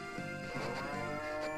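Cows in the farming game Story of Seasons: Trio of Towns give a drawn-out moo that rises and falls and then fades. A second lower moo follows, both close and clear with no talking.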